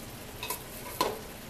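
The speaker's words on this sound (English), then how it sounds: "As you can hear now, starting to sizzle." Fat from coarse market-ground meat sizzles in a hot pot while browning for chili; a quiet, steady frying hiss with two brief clicks or stirring taps.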